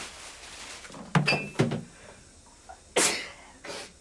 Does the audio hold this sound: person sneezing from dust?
yes